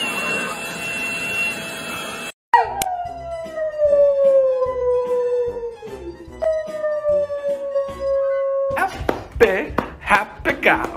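A dog lets out a long, drawn-out howl that slowly falls in pitch, pauses briefly and then carries on, close and loud. Playful chatter and other household noise come before and after it.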